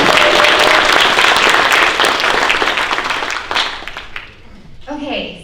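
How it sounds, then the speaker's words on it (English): Audience at the UH Venture Competition finals applauds a competing team, dense loud clapping filling the room for about four seconds before fading, with a voice starting to speak as it dies away. "Big round of applause for the team."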